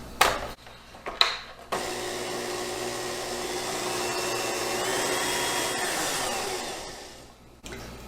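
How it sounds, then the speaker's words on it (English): An electric mixer creaming two sticks of butter with sugar, a steady close whirring motor hum running for several seconds after a few short starts and stops, then switching off. "you're going to mix, anyway, those 2 sticks of butter with 1/4 cup of sugar and just cream that together"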